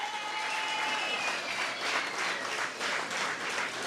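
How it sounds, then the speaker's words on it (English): Steady, moderately distant audience applause fills the hall at a political party gathering, sustained and even with no talking over it. "I want you to give them a special round of applause."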